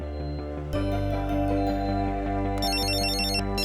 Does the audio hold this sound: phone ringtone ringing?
yes